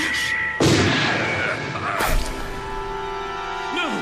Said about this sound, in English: The Chief's been shot.